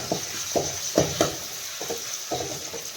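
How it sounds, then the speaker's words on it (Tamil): Ginger garlic paste hitting hot oil sets off a steady close sizzle, broken by about six sharp scrapes of a spoon stirring the pan at uneven intervals, with no talking. "இஞ்சி பூண்டு பேஸ்ட்டு போட்டு நல்லா வணங்குவோம்"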